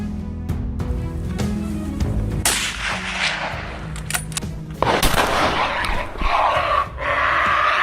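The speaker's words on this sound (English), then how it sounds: "Shot after shot rang out, each one finding its mark." Loud gunshots ring out during a wild boar hunt in farmland, several sharp blasts in quick succession with booming echoes, one after another over a few seconds, with no talking.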